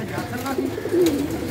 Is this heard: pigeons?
yes